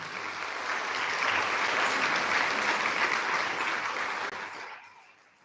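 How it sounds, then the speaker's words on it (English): Sustained audience applause for two Kathak dancers at a live RangPravesh performance, a dense steady wash of clapping that swells and then fades out toward the end. "let's give a big round of applause for Neerja and Aangee"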